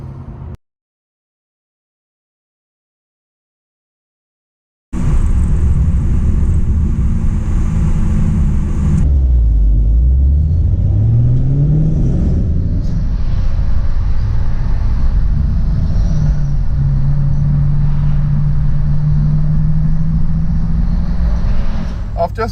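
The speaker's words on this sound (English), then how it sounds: "not pushing the car, and we're in top gear" Ford BF Falcon GT cruising in top gear on a highway, its steady engine drone and road roar continuous and close after a quiet opening, with a low tone sweeping up and settling.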